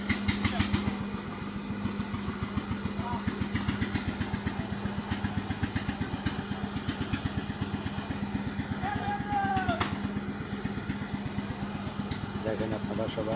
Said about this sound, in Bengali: দেখেন নদীতে ট্রলারে করে পার হচ্ছে।